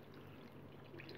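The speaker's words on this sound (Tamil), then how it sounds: "தண்ணியை சேர்த்துக்கிறேன்." Water pours into a pot of tiffin sambar being made in a microwave, a soft steady trickling stream that is quiet and close, lasting about a second.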